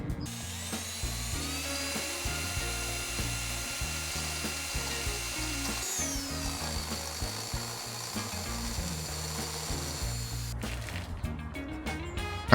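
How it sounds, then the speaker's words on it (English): A Dremel rotary tool spins at a high-pitched whine while its bit cuts into a Ford brake light switch, with grinding rasps and shifts in pitch as pressure changes, ending in a few scraping bursts. "Some Dremel bits should make quick work of this."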